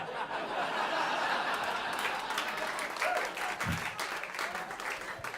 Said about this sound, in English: I don't know if that's an applause for me or an applause you gave yourselves for working it out